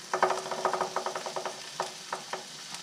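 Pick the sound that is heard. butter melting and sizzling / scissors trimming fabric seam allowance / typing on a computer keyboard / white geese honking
butter melting and sizzling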